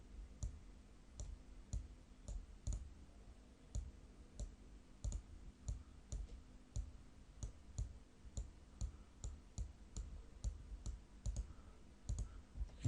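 Rapid, crisp computer mouse clicks repeat steadily throughout, quiet and close, while an image is edited, with no talking.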